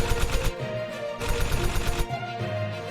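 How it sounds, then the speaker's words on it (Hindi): Gunfire from a 1965 war battle at the Haji Pir pass: loud, rapid bursts of machine-gun-like shots in quick rhythmic volleys, briefly pausing and resuming over a tonal background. "गोलीबारी"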